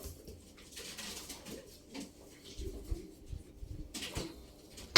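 A female pigeon coos softly a few times, close by amid faint handling noise and light clatter.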